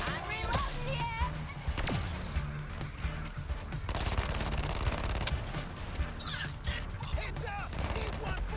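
Rapid bursts of gunfire in Suicide Squad: Kill the Justice League, mixed with impacts and crashes, dense and continuous under shouted character voices.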